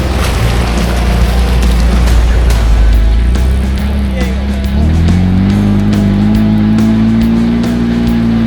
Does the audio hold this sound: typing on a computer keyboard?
no